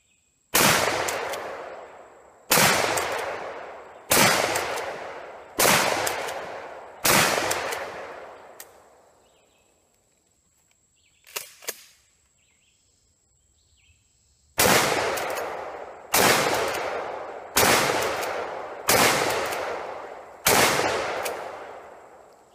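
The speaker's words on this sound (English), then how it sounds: "I will be shooting my Mossberg Model 88 Maverick" Loud shotgun blasts from a Mossberg Model 88 Maverick pump shotgun with a 26-inch barrel fired outdoors: five evenly spaced shots, a pause with faint sounds, then five more in steady rhythm, each with a long echoing decay.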